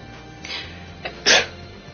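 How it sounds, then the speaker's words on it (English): A single sharp human sneeze near the end, preceded by a couple of small breathy intakes, close and fairly loud in an otherwise quiet room. "You made me sneeze."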